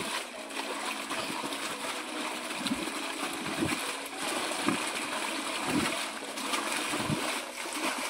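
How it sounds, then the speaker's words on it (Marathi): Water from a motor pump gushing and splashing into a farm field's furrows. The flow is loud and close, with a continuous rushing, splattering sound and no pauses. "चालू झाली मोटर. चला आपलं पाणी येत आहे."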